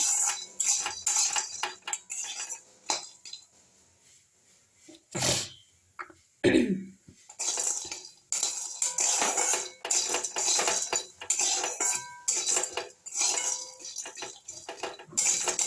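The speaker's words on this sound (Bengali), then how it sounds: "এবারে একটু নেড়ে নেড়ে আমি ভেজে নেবো ডালের বড়িটাকে" Lentil dumplings (bori) stirred in a frying pan: intermittent clattering and scraping of a spatula against the pan in uneven bursts, with short quiet gaps between them.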